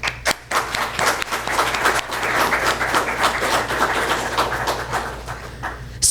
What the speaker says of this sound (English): Each one of you all deserves a round of applause.